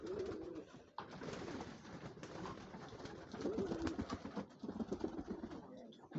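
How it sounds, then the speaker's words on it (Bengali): Pigeons coo in low rolling phrases at a pigeon fair, with wing flutters and birds moving about nearby, the cooing continuing steadily through the clip. "দেখেন একটা কবুতর সে ধরে ফেললো, অলরেডি সে উড়েই চলে গেল অভিমান করে।"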